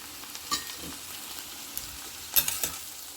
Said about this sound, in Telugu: పావు గంట తర్వాత బెండకాయలు సగం వేగాయండి ఇక ఈ టైంలో వాము జీలకర్ర ఆవాలు ఎండుమిర్చి వేసి కలుపుకోవాలి